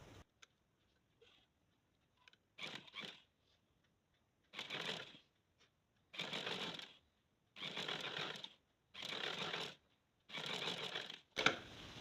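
A sewing machine stitches a flat collar with piping in short bursts, about six close whirring runs separated by brief pauses and light handling sounds.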